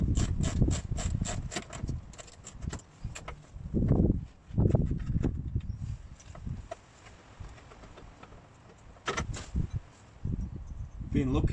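A ratchet cracking loose rear axle bolts on a vehicle being fitted with polyurethane bushes: rapid clicking bursts at the start and again near the end, with thuds and workshop clatter between and someone talking throughout.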